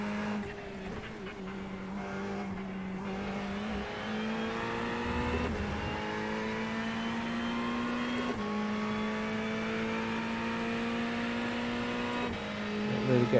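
A Ferrari race car in the iRacing simulator holds a loud, sustained high-revving engine note with rising pitch through the gears and brief dips at shifts, a steady mechanical wail with light tire noise underneath.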